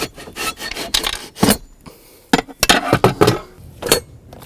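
A metal rod is wiggled out of a 2002-06 Chevy Avalanche armrest with locking pliers, producing close, irregular scraping and rattling bursts of metal working against the fitting, with no talking.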